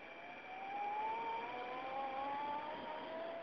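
Brushless electric motor of a 5-inch narrow gauge maintenance train spooling up to full throttle, a smooth whine rising steadily in pitch and holding high, moderately quiet and alone.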